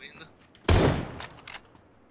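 Gunfire in PUBG, a single loud, close burst of shots that decays over half a second, followed by a couple of fainter reports, with a voice heard in the clip.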